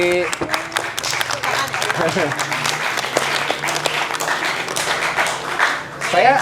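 Applause breaks out among the people at a podcast recording, a steady patter of hand claps lasting several seconds while voices talk over it.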